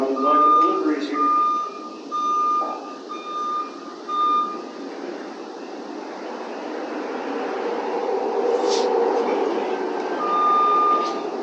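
A delivery truck backs in at a shop, its reversing alarm sounding a string of steady beeps over a low rumbling engine and broadband noise, with some voices faintly in the background.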